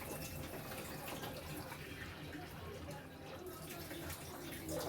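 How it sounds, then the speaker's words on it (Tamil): Water splashes and gurgles steadily as it is poured into a Kerala fish curry, a continuous close-up rush with a faint voice underneath. "தண்ணி ஊற்றிக்கிறோம்."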